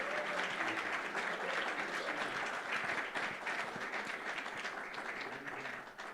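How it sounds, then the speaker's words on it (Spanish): An audience at an academic conference applauds to welcome a speaker, a steady, dense wash of many clapping hands that fades slightly toward the end. "Les pido un aplauso"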